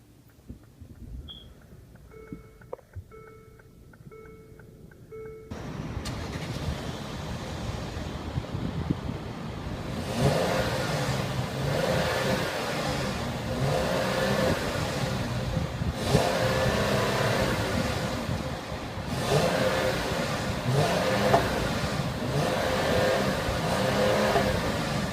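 A 2014/2015 Mercedes-Benz ML350 engine cranks and catches after a few seconds of faint beeping chimes, then settles into a steady idle with a few swelling revs that carry on to the end.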